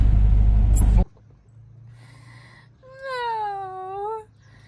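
A cat gives one drawn-out, wavering meow, close and clear, after a loud burst of vehicle rumble cuts off into quiet, with a low engine hum under the cry.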